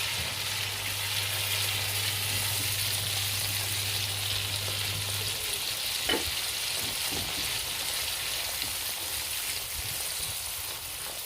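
A pan of thickened sauce for Turkish lentil soup has soup stirred into it, giving a steady close sizzle and wet scraping broadband noise with a few spoon knocks near the middle, and no talking.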